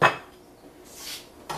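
Carrots go into a boiling pot of vegetable broth, with a sharp metallic clatter at the start, a soft rattling scrape in the middle and another clank at the end.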